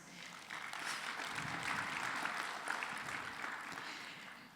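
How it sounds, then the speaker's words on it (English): Audience applause at a news-bulletin ceremony marking a fundraising success, a faint, distant stream of clapping that swells and holds steady throughout. "I think this deserves an applause."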